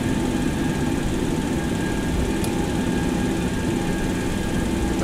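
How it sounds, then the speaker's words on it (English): Engine number one of a jet aircraft spools up during start, a steady, loud whine with sustained tonal hum over a broad rushing roar, no talk. "engine number 1 is coming to life"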